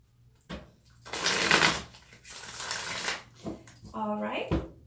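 A pre-shuffled tarot deck is shuffled by hand in a few bursts of riffling and flicking card noise, with a soft voice speaking at the end.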